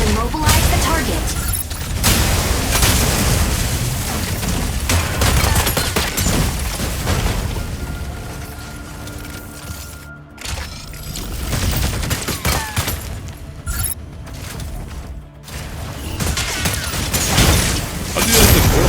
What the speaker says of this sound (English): You may also use Gauss cannons to attack.